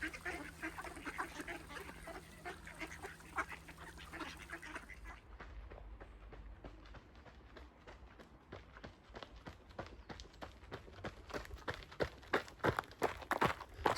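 Ducks at a dry spot in a park with no water give soft scattered quacks amid shuffling footsteps, faint and fairly close, with a steady background hum in the first few seconds.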